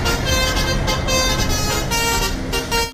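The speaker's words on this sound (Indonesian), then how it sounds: "Ada bus telolet." A toy bus sounds its telolet horn loudly and continuously, a bright, wavering multi-tone melody filling the whole moment before cutting off abruptly at the end.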